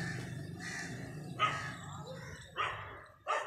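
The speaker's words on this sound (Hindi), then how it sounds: "लियो जंगली कुत्ते आ गए जी" Wild dogs barking on a morning walk with a German shepherd, several sharp barks spaced a few seconds apart at moderate distance over a faint rumbling background.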